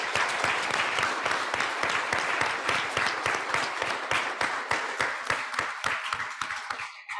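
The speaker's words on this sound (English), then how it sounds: "another round of applause for these two gentlemen." An audience at a talk event with a reverend gives a round of applause, a full, continuous wash of many people clapping that holds steady, then thins and fades near the end.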